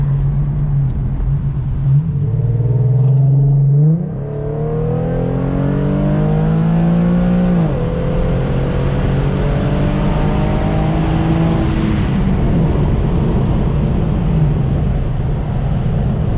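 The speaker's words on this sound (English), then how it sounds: "Let's see if she sounds like a little wide open here" An Infiniti Q50 3.7 with its muffler deleted revs up hard through several gears on a highway on-ramp, its loud raspy exhaust rising in pitch, dropping at each shift, then settling into a steady drone.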